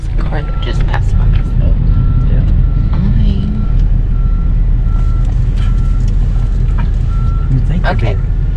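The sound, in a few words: rollback tow truck reversing beeps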